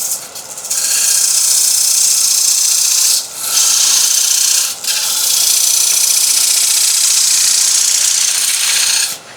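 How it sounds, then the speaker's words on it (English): A woodturning tool cutting a wooden platter on a spinning lathe, a loud close continuous hissing scrape that drops out briefly twice as the tool lifts, with no talking. "you can hear like a hacksaw blade going through a piece of metal. The noise changes, and this is what I'm listening for."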